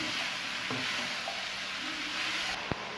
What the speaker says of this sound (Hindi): उसको फिर से 4 से 5 मिनट के लिए भून लेंगे।